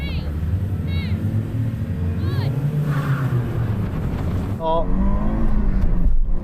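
Audi Quattro cars launching off the line at the start of a drag race, engines roaring and rising in pitch as they accelerate, loud and close, with a voice talking over the noise.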